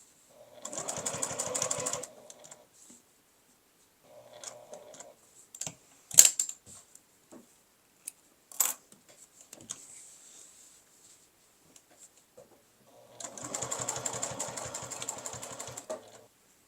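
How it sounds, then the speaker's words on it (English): A sewing machine back stitches a fabric glasses case, running in two loud bursts of rapid stitching at the start and end, with quieter short runs and clicks of handling between. "Just back stitch on either side of the gap."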